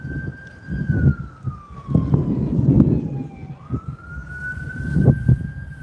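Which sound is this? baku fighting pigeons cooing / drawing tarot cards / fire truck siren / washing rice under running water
fire truck siren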